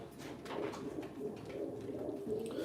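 Ankara tumbler pigeons coo in low, repeated murmurs at a bird auction, a continuous soft chorus close by with faint background bustle and no talk.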